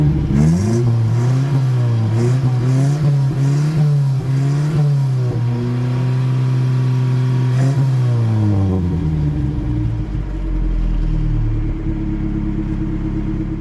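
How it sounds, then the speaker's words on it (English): A Datsun with an aftermarket exhaust and restored manifold revs up and down several times with a deep, throaty tone, then holds a steady drone before settling into a low rumbling idle. "So here's a quick sample of how the exhaust sounded."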